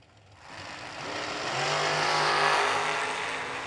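Dragsters launch down the strip at a drag race, a distant engine roar that swells quickly and holds loud before starting to fade.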